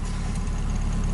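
A Volkswagen Gol with a turbocharged engine runs steadily nearby, giving a constant, loud, dense engine drone with no pauses.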